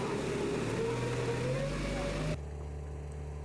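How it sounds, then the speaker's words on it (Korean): A motorboat pushing a crowded river ferry loaded with cars on a narrow river in Brazil drones with a steady engine hum and rising whine, then cuts to a quieter low hum. "마지막으로 모터 달린 배가 그 뒤에 붙는다"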